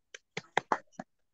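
A group clapping routine called tepuk semangat, five sharp claps in a quick uneven rhythm, close and clear against silence.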